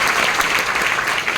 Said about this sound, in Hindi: तो दादा लोग के लिए और सारे सीनियर्स के लिए एक बार जोरदार ताली होनी चाहिए।